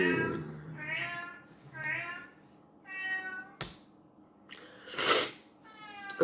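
A pet cat meows repeatedly up close, a series of drawn-out, insistent cries with short pauses between them.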